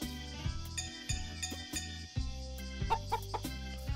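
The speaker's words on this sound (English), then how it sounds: "Chickens love it when you pet them." Chickens cluck in a few short bursts in the Story of Seasons: Pioneers of Olive Town farm game, heard over soft, steady background music with a repeating rhythm.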